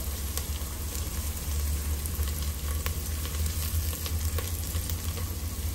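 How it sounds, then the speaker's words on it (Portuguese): Onion and garlic fry in a pan with a steady, close crackling sizzle that holds even throughout, with no talk. "Agora vou vir acrescentando 3 dentes de alho para dar uma fritada junto com a cebola"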